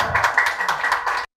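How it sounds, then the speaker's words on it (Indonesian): An audience claps at a talk-show style panel discussion, a steady burst of hand claps lasting about a second before cutting off abruptly. "Ini tepuk tangan dong."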